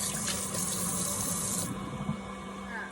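Buttermilk poured off freshly churned butter, a continuous splashing stream of liquid running into a sink for a couple of seconds, fairly close, with no talking.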